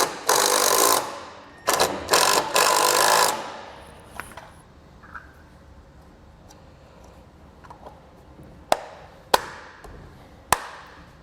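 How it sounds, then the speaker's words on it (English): A cordless drill drives self-tapping screws to mount a trailer clearance light, with loud whirring bursts of a few seconds each, followed by quieter gaps and several sharp clicks. "So now we're going to go ahead and just secure our light using self-tapping screws."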